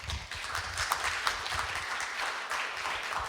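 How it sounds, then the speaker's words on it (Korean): Audience applause at a book launch event in Korea for a volume on the May 18 Gwangju truth-finding effort, a dense, steady patter of many hands clapping that holds evenly for a few seconds. "수고해 주신 김정호 변호사님께 큰 박수 부탁드립니다"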